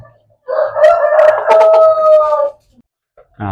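A rooster of the Bangkok breed crows once, loud and close, in a drawn-out call of about two seconds, followed by a brief start of another sound.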